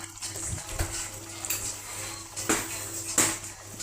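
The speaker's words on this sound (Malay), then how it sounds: "ini adalah air asam jawa. So kita masukkan sedikit saja" Tamarind juice is poured into a cooking pot for a Sarawak feast dish of black-cooked beef, a soft irregular splashing and trickling close by with a few light clinks.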